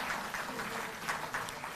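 A crowd claps at a public ceremony where contract workers are made permanent, producing dense, continuous applause with a few louder surges. It sounds fairly close and fills the whole moment, with no voice on top.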